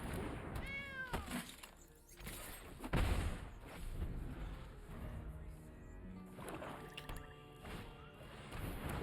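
A cat meows in the digital card game MTG Arena, with a few clear meows early and later, amid game sound effects such as blasts and chimes.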